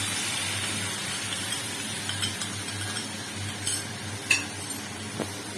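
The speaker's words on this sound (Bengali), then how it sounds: "এরপর দিয়ে দিলাম ম্যারিনেট করা চিকেনগুলো" Marinated chicken going into a pan of dry-fried vegetables for a homemade chicken spring roll filling, with a steady close sizzle, stirring scrapes and a few faint utensil clinks throughout.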